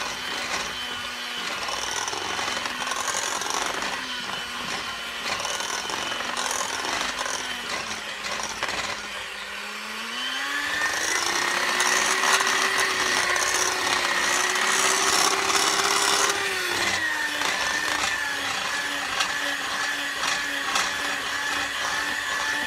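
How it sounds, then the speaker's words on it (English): An electric mixer whirs steadily while blending cream cheese icing with confectioner sugar, a continuous motor hum that rises in pitch partway through as the speed increases, with no voices. "I'm going to mix this up until it's smooth"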